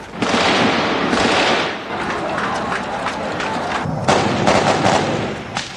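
Street fighting between rebels and government troops during a coup attempt, with scattered sniper gunfire cracking through dense, noisy city ambience and rushing movement, the shots mixed into a constant roar.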